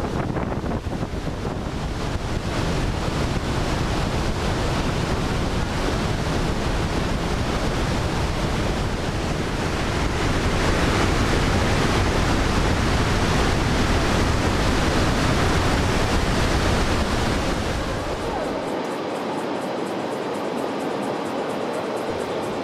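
The Iguaçu waterfalls in Brazil pour with a dense, constant roar of rushing water, loud and unbroken, with wind buffeting the microphone.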